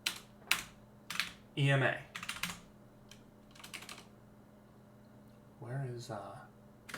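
Someone types on a computer keyboard in a quiet room, in short bursts of close, clicking keystrokes separated by pauses, while someone speaks briefly between them.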